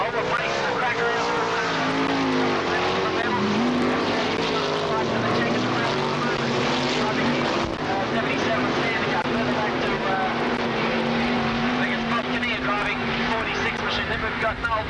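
Dirt track race cars roar around the circuit at the 1985 War of the West, a continuous loud engine drone with rising and falling pitch, under steady commentary from a race announcer.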